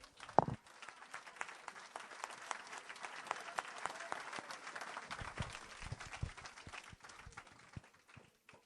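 A church congregation applauds and cheers in praise of Jesus Christ, sustained clapping filling the room for several seconds, then thinning into scattered claps near the end.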